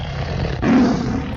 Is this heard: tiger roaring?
yes